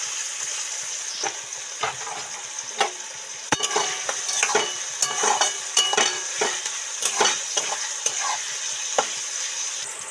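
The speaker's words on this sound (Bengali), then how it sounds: "গাজর কড়াই তো মোটামুটি হাফ ভাজা হয়ে গেছে" Carrots fry in an oiled kadai, sizzling steadily up close while a utensil stirs and scrapes in frequent irregular clacks and knocks.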